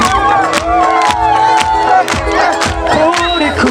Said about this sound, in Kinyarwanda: amashyi nanone